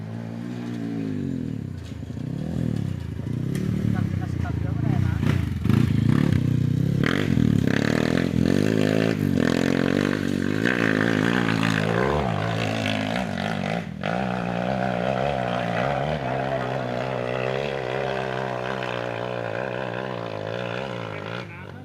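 A Honda CRF dirt bike engine revs and roars up and down close by, rising in pitch through repeated throttle blips with scraping, rattling mechanical clatter mixed in.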